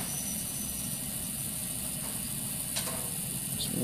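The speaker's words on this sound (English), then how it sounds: "Here, the grinding of the gears gets faster. That's full speed, clockwise." A small pot-controlled geared DC motor driven by an L293D runs at full speed clockwise, giving a steady, even whir and gear grind with a faint click near the end.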